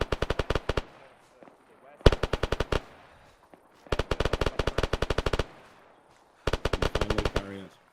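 Automatic gunfire in Arma 3 during a UNITAF operation: four loud bursts of rapid, evenly spaced shots, each lasting under a second, separated by short pauses with a brief quiet gap.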